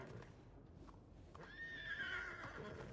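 A horse neighs in a Red Dead western roleplay game, starting quietly and then rising into a loud, drawn-out whinny over steady background noise during the second half.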